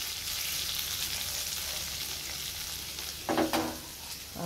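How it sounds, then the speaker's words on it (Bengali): Potatoes fry in a pan with a steady, close crackling sizzle, and a short burst of louder stirring clatter comes near the end. "এখানে আলুটা ভাজা হচ্ছে"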